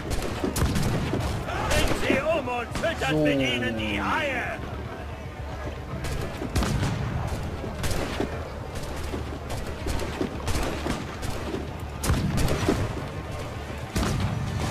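Ship cannons firing in Assassin's Creed IV: Black Flag during a naval battle, heavy booming volleys and crashing impacts repeating throughout, with someone speaking over the action for much of the stretch.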